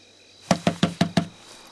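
Five quick, evenly spaced knocks on a door, close and fairly loud, sounding alone with a faint background hum and no talking.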